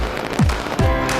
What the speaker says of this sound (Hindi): न्यूजीलैंड में नए साल के आगाज के साथ ही आकाश आतिशबाजी से जगमगा उठा।